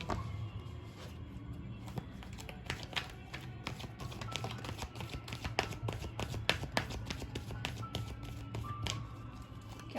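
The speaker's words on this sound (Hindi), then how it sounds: "मैं करती हूँ कार्ड शफल" Tarot cards being shuffled by hand, a steady run of soft close riffling taps and flutters with no speech over them.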